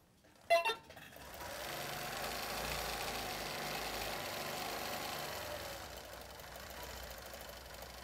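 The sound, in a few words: sewing machine stitching a C curl quilt border design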